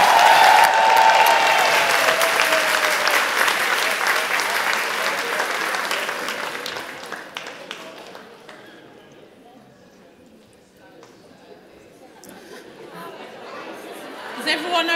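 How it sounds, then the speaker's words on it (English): Sustained applause from the audience at a healthcare staff recognition awards ceremony for a highly commended prison pharmacy team, loud at first and then thinning out, with crowd chatter mixed in. "us recognize our highly commended team with a round of applause"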